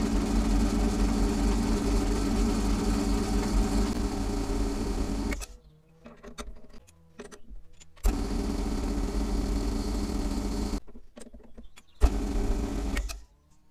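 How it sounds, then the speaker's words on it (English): A Massey Ferguson crank is drilled with a steady, droning machine whine that stops abruptly, followed by scattered clicks and clunks and a second run of drilling that halts again. "we'll get our 3 holes drilled in the crank"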